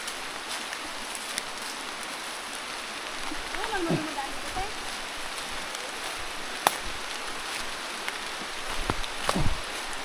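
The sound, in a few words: rain falling near a river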